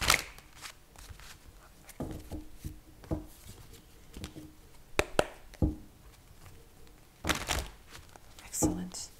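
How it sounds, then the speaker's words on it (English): Tarot cards are shuffled close to the microphone in a quiet room, giving soft papery riffles, slaps and crinkles in irregular bursts. "So let's shuffle these cards."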